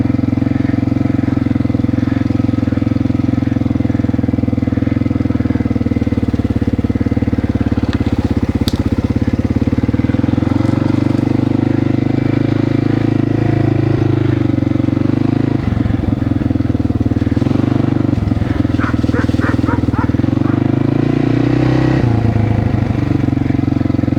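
A newly assembled engine built from worn parts runs steadily with a loud, continuous low drone, its pitch shifting with a few throttle blips and revs near the end.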